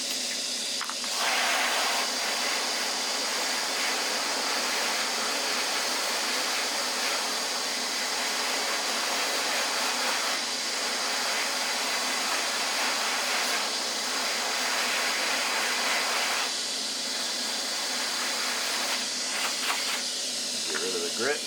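A Dremel rotary tool with a grit burr polishing a rock gives a continuous high-pitched whine and hiss, holding steady for a long stretch with brief dips in pitch and load, no talk heard.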